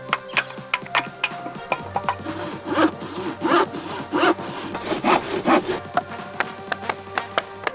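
Handsaw cutting through a wooden board: repeated rasping back-and-forth strokes in a steady rhythm, close and loud, with no talk.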